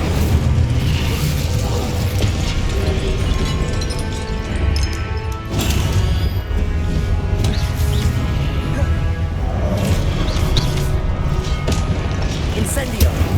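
Repeated fire-spell blasts from Hogwarts Legacy, the Incendio spell, crackle and boom in rapid succession, loud and close, with dense crashing bursts over a continuous rumble and a shouting voice calling out spells.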